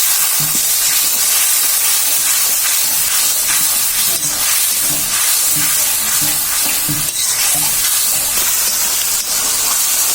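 Spices frying in a pan with water just added for a prawn dal, a loud continuous sizzle and steamy hiss with clinks of stirring, close up and without talk.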